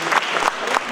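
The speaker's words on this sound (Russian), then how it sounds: "Аплодисменты." An audience applauds at an anniversary celebration for the Kazan magazine. There is a short burst of steady crowd clapping with a few louder pulses, heard close and alone.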